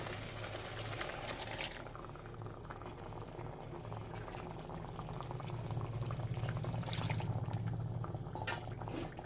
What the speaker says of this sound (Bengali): জলটা গরম জল দিচ্ছি